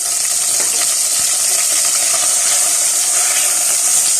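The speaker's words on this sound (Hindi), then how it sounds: "हल्का सा प्याज को भी हम सौते कर लेंगे" Onions sauté in a pan for a homemade pizza sauce, producing a loud, steady frying sizzle with bright hiss and occasional small crackles, close and continuous, with no talking.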